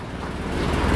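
A Honda Accord with a no-power fault and reversed TPS and MAP connectors idles, a loud close steady engine rumble that builds slightly over one second.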